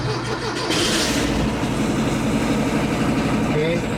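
A Porsche 914 engine cranks and catches, then settles into a steady, loud running drone that continues to the end without pause.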